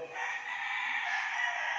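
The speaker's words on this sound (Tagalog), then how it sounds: "mga pagtilahok po ng mga manok" A rooster crows loudly and steadily, its strained, bright call holding for the full length without pause.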